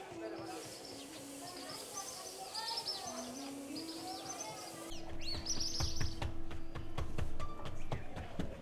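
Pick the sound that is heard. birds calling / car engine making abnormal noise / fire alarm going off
birds calling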